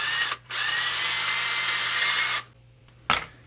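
A small drill bit whirs steadily as it bores guide holes into a soft plastic GoPro frame. There are two close, loud bursts: a long continuous run, a brief pause and restart, then one short final blip after near-silence.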